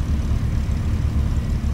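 Robinson R22 helicopter piston engine running steadily just after start, a loud, continuous low rumble with no pauses and nothing else heard over it.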